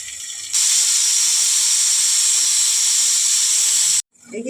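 Chopped onion hits hot oil in a pan and erupts into a loud, steady sizzling hiss that holds evenly for several seconds, close up, then cuts off abruptly.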